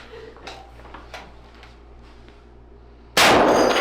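A hammer in a shooting-gallery video game strikes a wall, a single loud sharp bang bursting in suddenly near the end after a stretch of quieter clinks and taps.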